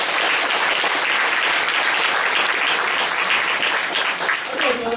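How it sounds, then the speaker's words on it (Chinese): Sustained audience applause at a public talk or commemorative event, a dense, loud wall of clapping filling the whole stretch with a slight dip near the end. "我给他一个掌声。"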